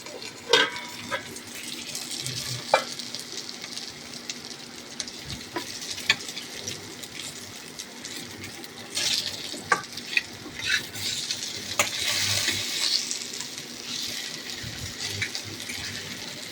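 Curry with chopped tomato stirred in a wok, with a steady quiet sizzle, irregular scraping strokes and occasional sharp clinks of the utensil against the pan.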